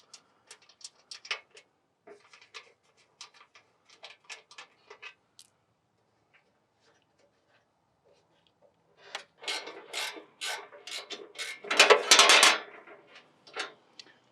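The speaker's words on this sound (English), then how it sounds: "I'll remove these bolts." A ratchet wrench backs out loosened seat pan bolts on a Kioti CX2510 tractor. Quick runs of close metallic clicks come in bursts, then a pause, then louder, denser ratcheting and rattling at the end.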